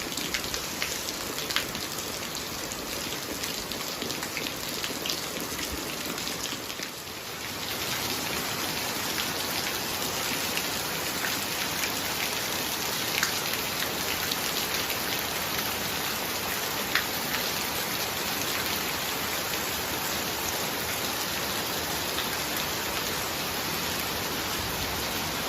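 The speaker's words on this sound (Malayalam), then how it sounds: "പുറത്ത് ഭയങ്കര മഴ തുടങ്ങി." Heavy rain pours down outside, a loud, unbroken hiss of downpour that dips briefly once early on and then carries on steady and dense, with no voices over it.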